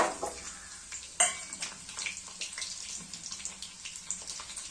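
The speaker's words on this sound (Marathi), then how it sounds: "लाल होईपर्यंत फ्राय करून घ्यायचा" Chopped garlic and cumin seeds frying in hot oil in a pan, a steady close crackle with scraping stirs and one sharp clink early on, no voices.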